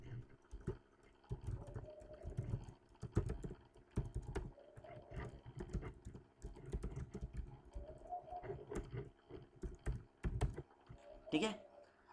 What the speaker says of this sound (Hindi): अब जैसे मैंने यहाँ पर टेक्स्ट टाइप किया